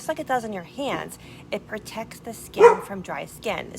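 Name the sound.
neighbor's dog barking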